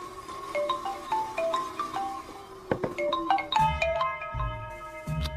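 A phone ringtone plays a repeating melodic jingle, loud and close, continuing for several seconds without anyone speaking.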